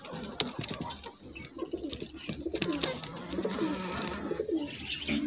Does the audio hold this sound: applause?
no